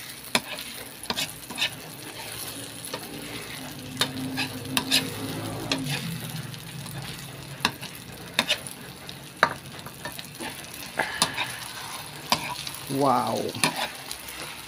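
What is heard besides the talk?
stirring frying food in a pan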